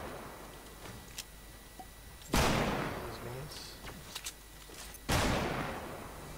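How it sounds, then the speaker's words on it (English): Two loud, sharp weapon blasts about three seconds apart, each with a long decaying tail, fired during a battle royale video game match, over quiet game ambience and a few faint clicks. "I'm gonna shoot."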